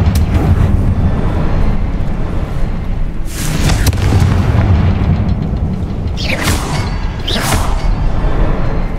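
Fiery Confringo spell blasts in Hogwarts Legacy: a loud, rumbling bed with several sharp booming explosions and whooshing bursts, two close together near the end.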